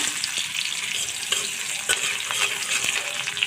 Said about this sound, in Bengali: তেলের সাথে আমি কয়েকটা শুকনো মরিচ দিয়ে দেবো বড় একটা পেঁয়াজ কুচা।